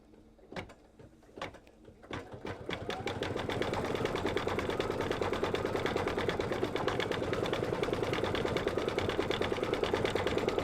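After a few sharp clicks, an embroidery machine starts up and stitches pinwheel detail on a mug rug, settling into a fast, even rhythmic whirring and tapping that stays close and steady, with no voices.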